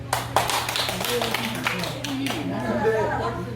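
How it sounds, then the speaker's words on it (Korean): An audience at a Korean comic storytelling performance claps in a loose, scattered burst mixed with murmuring and light laughter, with chatter carrying on beneath the applause. "박수"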